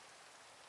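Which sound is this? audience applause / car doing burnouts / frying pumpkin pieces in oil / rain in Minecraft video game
rain in Minecraft video game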